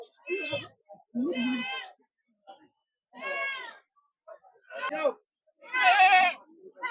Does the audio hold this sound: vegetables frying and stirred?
no